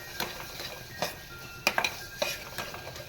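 Raw masala is roasted in oil in a pan and stirred with a utensil, giving soft scraping and a few distinct metallic clinks over a faint, low sizzle.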